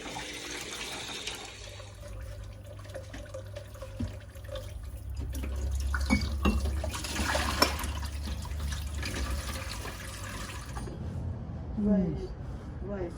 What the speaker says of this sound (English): First you wash the peaches.